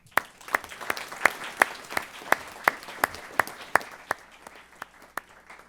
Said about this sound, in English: would maybe offer them a round of applause for that